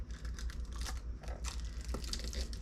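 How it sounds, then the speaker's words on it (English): Paper is crinkled down over the mouth of a Dollar Tree glass jar of homemade Concord grape jelly and a lid is fitted on, giving quiet close rustling and crackling with a small click. "Put the paper down like this, and then you put the lid on."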